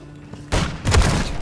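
A grenade blast in Call of Duty gameplay: a sudden loud boom lands midway, followed by a second heavy burst of rumbling gunfire-like noise, all fairly close and dominant.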